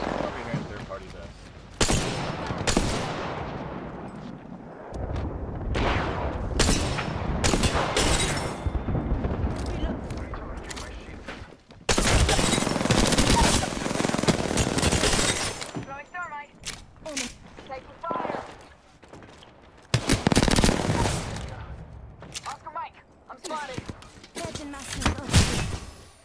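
Heavy gunfire in the battle royale shooter Apex Legends: repeated bursts and sharp impacts over about twenty-five seconds, loud and close, with brief gaps between volleys and a few loud booms, while players talk over the fighting.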